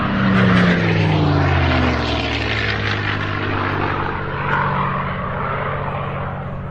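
A P-51 Mustang fighter with a Packard-built Merlin engine flies past at an air show in Utah. The propeller engine roars loud and full, its pitch sliding down as the plane passes, then settles into a sustained drone.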